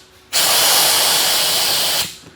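Air hisses sharply and loudly from a spring-loaded inlet on a car storage capsule setup, starting abruptly, holding steady for under two seconds and then tapering off, close up with no voices.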